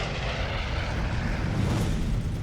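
A WWII Japanese Zero fighter plane going down in flames, heard as a dense, loud, steady propeller-engine roar with broadband rushing noise throughout.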